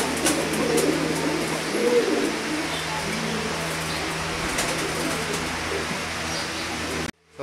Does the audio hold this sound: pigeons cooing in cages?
yes